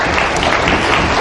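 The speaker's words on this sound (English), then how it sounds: "join me in giving them applause of appreciation" Dense, steady applause from a large crowd at a lecture, loud and continuous throughout with no breaks.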